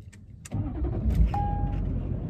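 A car engine near a field being planted with corn cranks and catches at about half a second, then runs at a steady, loud idle with a brief high whine partway through.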